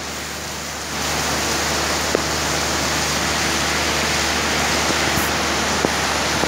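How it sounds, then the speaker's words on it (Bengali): A heavy downpour of rain gives a steady, loud hiss and roar with no break, and a few faint taps stand out now and then. "পক পক করে বৃষ্টি পড়ছে"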